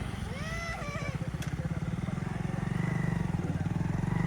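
A motorcycle putters along in a village in Lumbini Province, Nepal, its close engine thrumming in a steady pulsing rhythm that grows louder, with a brief voice and a bird-like chirp at the start.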